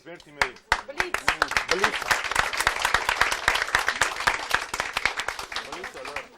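A studio audience at a televised quiz game applauds all the competing teams, sharp close claps building quickly into brisk, loud clapping that tapers off after several seconds.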